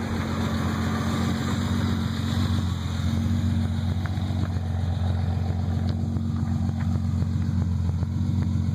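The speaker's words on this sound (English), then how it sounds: "It sounds awesome just to be pretty much a straight pipe back to a muffler." A 1986 BMW 325i with a 5-speed and a new Greddy muffler on a nearly straight-pipe exhaust idles close by, a steady, even, low rumble with a slight raspy edge that holds without change throughout.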